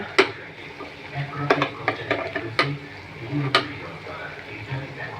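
Ginger paste sizzling in a pan for egg korma, a crackling fry with sharp utensil clicks against the pan scattered through it, close by.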